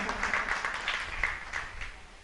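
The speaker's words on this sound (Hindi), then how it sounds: "एक बार जोरदार ताली बजा के शिखरचंद जी का स्वागत करें" An audience at a Jain religious discourse bursts into loud, sustained applause welcoming a guest, dense clapping holding steady and then tapering slightly toward the end.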